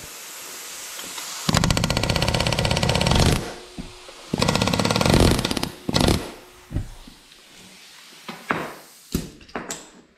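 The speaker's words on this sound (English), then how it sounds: "I just have an air hammer with a hammer bit" A pneumatic air hammer with a hammer bit, tapping a broken stud, rattles in two loud sustained bursts, followed by several short sharp taps and hisses of air, close up.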